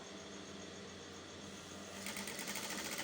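A sewing machine runs a steady, close mechanical whir as it back stitches a seam starting from the hem of a smocked, shirred dress, then speeds into a louder, faster rattling stitch.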